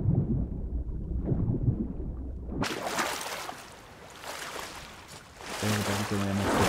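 A thunderstorm at sea in Sea of Thieves on Xbox One X: muffled rumbling gives way to a sudden, loud wash of wind and rain-like noise that swells and ebbs, with a brief tonal creak near the end.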